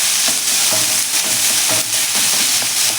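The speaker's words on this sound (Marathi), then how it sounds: "कांदा तेलावरती छान आता फ्राय करून घेऊया" Chopped onion frying in oil over medium gas heat, a steady close sizzle with stirring scrapes recurring every half second or so, loud and continuous with no voices.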